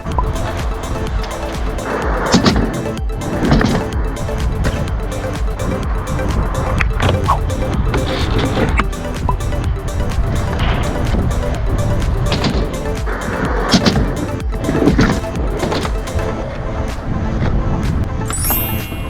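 Skateboard wheels roll up and back down a bank in POV, a continuous gritty rumble that swells and fades with each pass, punctuated by occasional clacks, close and loud without talking.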